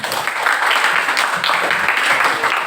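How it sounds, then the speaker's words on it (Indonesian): Classroom applause during a lesson on writing observation reports, a steady dense patter of many hands clapping close by, filling the whole stretch without talk. "Tepuk tangan."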